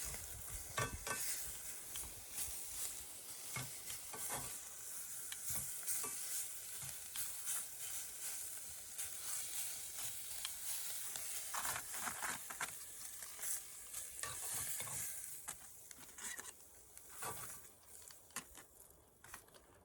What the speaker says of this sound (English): I'm going to put the meat in with my onions so that they're all mixed.